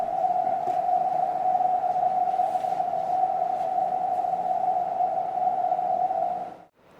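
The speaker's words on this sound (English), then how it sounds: "A brief CW noise burst announces ring formation, then falls away, leaving only a steady hum." Krypton plasma ring emitting a loud, steady tonal hum with a faint noisy wash over it, holding constant for several seconds before cutting off abruptly near the end.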